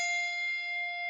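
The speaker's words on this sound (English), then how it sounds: "the first thing we do is that we ring bell number 1 right over its home position." A handbell is rung over its home position at the start of a pre-weave pattern. It gives one steady, bright tone with clear overtones, sustained and ringing alone for about a second.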